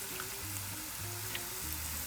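Mushrooms for a seafood pasta with lobster and shrimp sizzle in a hot pan, a faint, steady frying hiss with soft crackles and no voices.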